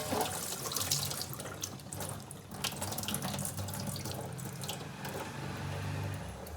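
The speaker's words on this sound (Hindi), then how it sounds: "जब तक करेले का पानी निचड़ रहा है" Water trickles and splashes steadily as boiled bitter gourds drain through a strainer into a sink, continuous and fairly close.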